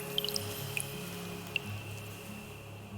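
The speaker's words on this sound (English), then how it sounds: "It does like a drip drop noise." A seed vacuum in the video game Cloud Gardens gives small watery drip-drop plinks, a quick cluster early, then single drips, over a quiet steady background hum.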